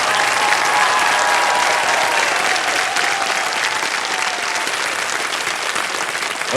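Studio audience on a television quiz show gives loud, sustained applause for the top two contestants, thick continuous clapping that stays strong throughout and eases only slightly toward the end.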